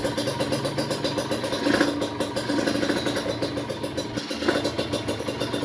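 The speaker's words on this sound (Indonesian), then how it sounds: "Saya mau manasin motor dulu nih" A Kawasaki Ninja RR two-stroke motorcycle idles unevenly just after starting, fitted with a B9 ECS spark plug, its close, loud engine throbbing in a steady rapid pulse with a couple of brief revs.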